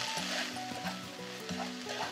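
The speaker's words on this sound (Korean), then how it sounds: "다시 한번 10초 정도 볶아주시고" Garlic chive japchae is stir-fried in a hot pan, giving a faint, steady sizzle with light stirring and scraping over soft tonal background music.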